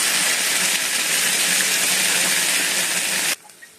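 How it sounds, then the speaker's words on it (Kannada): Water poured into frying okra and ivy gourd, a loud, steady hissing rush of steam that stops abruptly, leaving near silence. "ಇದಕ್ಕೆ ಒಂದು 1/4 ಲೀಟ್ರಷ್ಟು ನೀರು ಹಾಕೋಣ."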